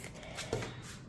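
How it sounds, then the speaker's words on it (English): A brief riffle shuffle of a new, stiff tarot card deck, a quick papery ripple of cards with a soft snap as they meet. "Okay, so for riffle shuffling, it's a kind of stiff."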